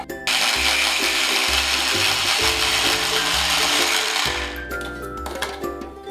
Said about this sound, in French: une cuillère à soupe d'amandes concassées et une cuillère à café d'ail. Et donc là je vais mixer.